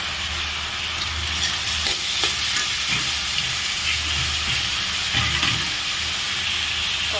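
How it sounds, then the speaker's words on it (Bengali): Snake gourd fries with onion in a pan, giving a loud, dense, continuous sizzle and hiss with repeated stirring scrapes up close. "চিচিঙ্গিটাও ভেজে নেব।"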